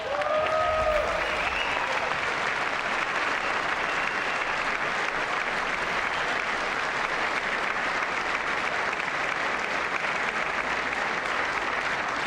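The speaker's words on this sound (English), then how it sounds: "I wasn't sure if anybody even on this side was going to applaud for that." Applause at the State of the Union address, a dense, sustained roar of clapping from a large chamber audience that stays steady and loud throughout.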